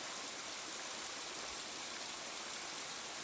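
A river rushes near a waterfall at a coffee farm, producing a dense, steady, loud hiss of flowing water with no pauses.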